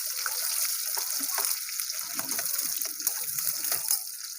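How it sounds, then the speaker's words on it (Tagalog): Onions fry in hot oil in a pan, a steady close sizzle and crackle with light stirring scrapes, continuous and without talking. "maglagay tayo ng mantika dito sa ating pan dahil mainit na. Ayan. Tapos itong yung naglunod ng sibuyas."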